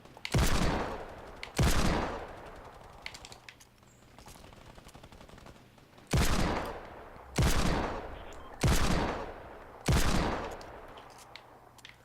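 Gunfire in a video game battle among buildings: several loud bursts of rapid automatic fire, each cutting off sharply, with quieter stretches of scattered shots and rumble between them and no talking.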